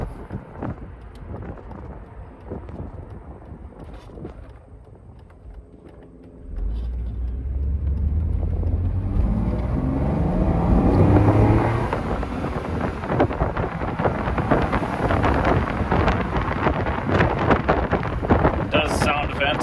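A 1997 Mercedes SL600 with the M120 V12 engine rumbles up loudly after a quieter stretch with a voice talking, then holds a deep, steady running note with some wind noise.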